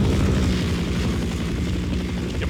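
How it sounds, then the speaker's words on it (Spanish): A helicopter in Half-Life drones steadily with a deep, pulsing rotor and engine rumble, loud and continuous with no voices over it. "Maldito helicóptero."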